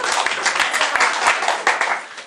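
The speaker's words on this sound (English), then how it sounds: "applause" Scattered clapping from a small group in a room, uneven and close, several hands beating in loose rhythm for a couple of seconds.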